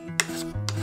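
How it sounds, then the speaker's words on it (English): Short rasping strokes of a spokeshave shaving the top curve of a wooden tool box, two quick scrapes close up, with nobody speaking. "Then I can go back in with my spokeshave and just tune up that top curve a little bit."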